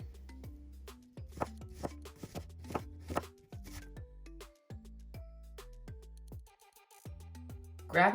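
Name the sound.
finely slicing onions with a knife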